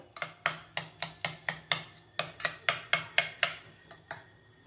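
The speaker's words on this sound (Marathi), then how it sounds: "मी थोडंसं चमच्याने असं बारीक करून घेतलेलं आहे" Boiled chickpeas and potatoes are mashed with a spoon, giving a steady run of about fifteen sharp metal taps against a pot, close and evenly paced, with a brief pause midway and nobody talking.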